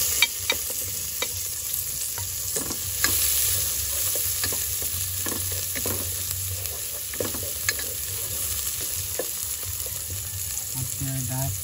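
Onion frying in a pan with garlic, a steady close sizzle with occasional stirring scrapes and clicks running throughout.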